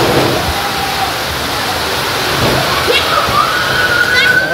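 Monsoon rain pouring steadily around a hillside school building under construction, a dense continuous wash of water close by, with a little faint talking mixed in.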